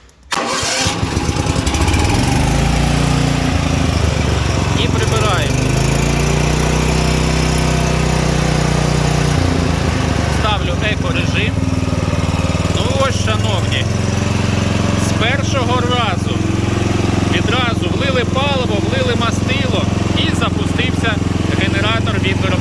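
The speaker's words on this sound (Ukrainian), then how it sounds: "давайте разом з вами подивимось, наскільки ж вейма запускається після розпаковки відразу" A Weima WM6000EI 6 kW inverter generator, freshly unpacked, fires up after a brief crank and settles into a loud, steady engine drone, while someone talks over it throughout.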